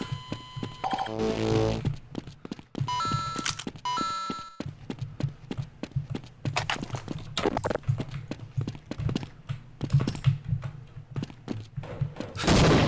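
Rapid bursts of gunfire in a video game, sharp repeated shots and volleys crowding a busy mix of game sounds and chimes.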